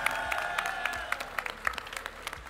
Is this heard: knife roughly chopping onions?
no